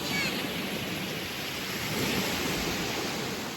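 Evening sea at Hrybivka, cold water washing onto the shore as a steady broadband hiss of surf, continuous and fairly even.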